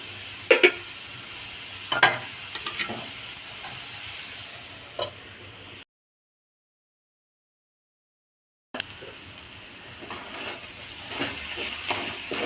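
Food cooking in a pan is stirred, with soft sizzling and hiss, a few sharp scraping knocks near the start, then the sound cuts out for about three seconds before the frying resumes.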